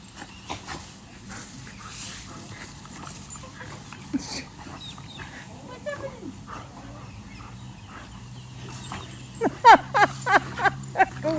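Happy dogs play together in a backyard, yipping, whimpering and giving short barks amid scuffling, with a quick run of louder barks near the end; people talk faintly in the background.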